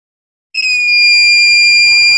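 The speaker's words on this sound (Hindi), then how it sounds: "तो जैसा कि आप बीप की आवाज़ सुन पा रहे होंगे," A multimeter on continuity test gives a loud, steady high-pitched beep while testing a shorted capacitor removed from a Samsung phone board. The beep starts sharply after a moment of silence and holds without a break.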